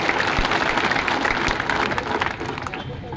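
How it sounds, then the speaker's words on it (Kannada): A crowd at a large farmers' protest rally in Mudhol claps in a sustained burst of applause, loud and continuous, then fading slightly toward the end. "ಇನ್ನೊಂದ್ಸಾರಿ ಚಪ್ಪಾಳೆ ಹೊಡೀರಿ"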